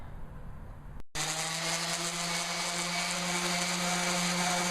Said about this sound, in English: what I'm gonna do is just run my sander over it real quick just to slightly round it off